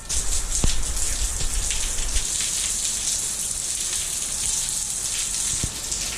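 Steady rain pouring on the East Coast, a dense continuous hiss of drops hitting surfaces with a few sharper splashes, heard alone without talk.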